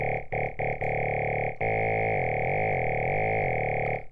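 Growling synth bass from the Razor synthesizer with its formant shifted down. A dense, distorted tone sounds alone: a few short stabs, then a long sustained note whose vowel-like wobbles rise and fall.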